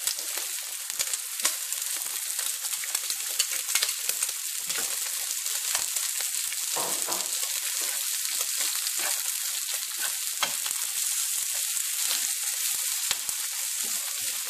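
Pancetta and spring onion fry in a pan with a steady, loud sizzle that runs the whole time, crackling densely with only brief lulls.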